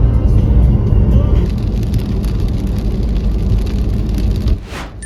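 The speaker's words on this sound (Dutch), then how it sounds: "Het regent al een paar uur en het lijkt ook niet meer droog te worden vandaag." Rain drumming on a car driving toward France during a long downpour, a loud, steady wash of road and rain noise inside the vehicle that fades slightly near the end.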